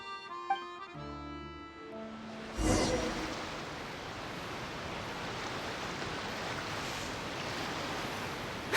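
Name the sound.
boat sailing on waves, from video game Genshin Impact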